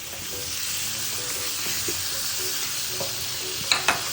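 Tomatoes hit a hot pan of sautéing string beans, Baguio beans and shrimp, giving a steady, even sizzle with occasional stirring knocks and a couple of sharp utensil clacks near the end.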